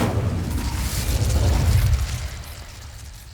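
Casting the Incendio fire spell in Hogwarts Legacy releases a loud, close whooshing burst with a deep rumbling boom that swells and then fades over a few seconds.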